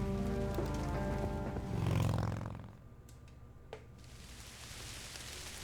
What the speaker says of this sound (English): It's raining outside, and now it's still fucking raining.